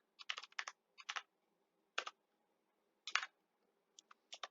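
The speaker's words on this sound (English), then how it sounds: "let's just type our first set as set A and type some numbers" Short bursts of crisp key clicks from typing code on a computer keyboard, close and clear, separated by silent pauses.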